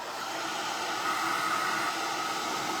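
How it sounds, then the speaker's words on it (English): A blow dryer blowing on a recycled holly-leaf craft necklace: a steady, close, even rushing whir of air that holds at constant loudness throughout, with no talk. "I'm gonna zap this with a blow dryer really quick."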